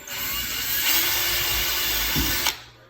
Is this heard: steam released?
no